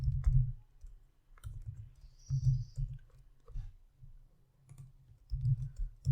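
Computer mouse clicks and keyboard typing while working in Power Query spreadsheet software: scattered sharp clicks over soft, dull thumps, in irregular clusters, close and fairly quiet with no talking.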